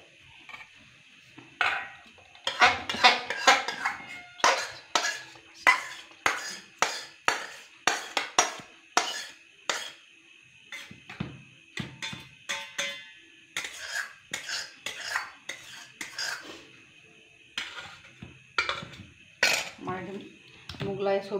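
Mughlai vegetable curry is poured and scraped out of a pan, with a long run of sharp metallic clinks and scrapes of utensils against pots and dishes, close and irregular, a brief voice heard now and then.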